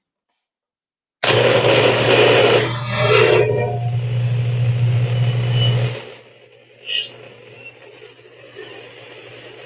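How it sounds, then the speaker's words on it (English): Countertop blender whirring loudly as it blends an oil-free salad dressing, starting abruptly, running steady for about five seconds, then dropping to a faint hum, followed by a brief clatter and a short spoken word. "let's blend this up and see what it looks like"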